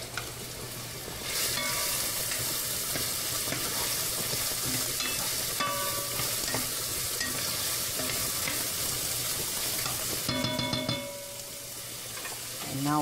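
Vegetables seasoned with salt and pepper sauté in a pan, giving a steady close sizzle that runs almost unbroken, with faint stirring scrapes and a brief dip near the end.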